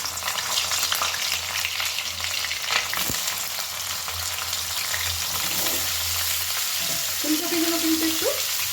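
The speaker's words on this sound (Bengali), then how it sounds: "ভেজে নেব ফুলকপিগুলো।" Cauliflower pieces fry in hot salted oil, a steady close sizzle running throughout with a few stirring clinks and scrapes.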